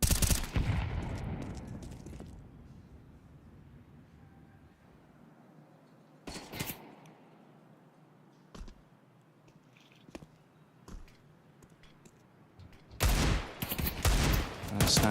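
Gunfire in a professional Counter-Strike match on Nuke, a loud burst of shots at the start, then scattered quieter shots and clicks, and a final dense flurry of gunfire near the end.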